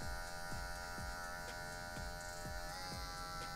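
An electric hair clipper cuts hair during a barbershop fade, clearing guide lines left by a number-one guard. It gives a steady, close mechanical buzz with repeated short strokes through the hair and no talking.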